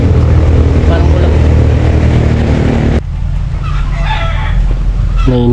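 A rooster crows and a chicken clucks over a steady loud hum of traffic or engine noise, with a short harmonic call near the end.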